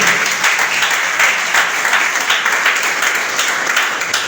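A church congregation applauds during a sermon, dense continuous clapping from many hands that fills the room, loud and sustained with a slightly pulsing swell.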